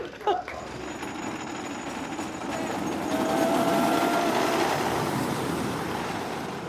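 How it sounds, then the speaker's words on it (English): A wooden roller coaster at a zoo, Ohio's oldest, brakes to a stop with a loud, steady mechanical rumble and rattle that swells midway and holds. A thump opens it, and no one talks. "And he just pulls the lever to pull us to a stop."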